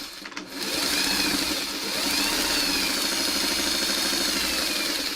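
A sewing machine stitching quilt triangles hums steadily and continuously for several seconds, a close mechanical whir with a fast, even stitching pulse.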